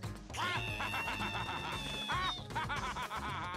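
Game bird squawking and clucking in WarioWare: Move It, loud harmonic cries in quick bursts over busy, bouncy game music, with no talking.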